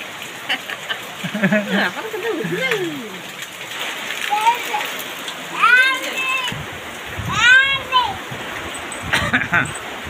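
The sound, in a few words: rain falling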